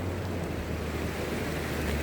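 Yakima River running very low at Rinehart Park in winter, a steady broadband rush of flowing water with a low rumble, continuous and fairly faint, with no voices.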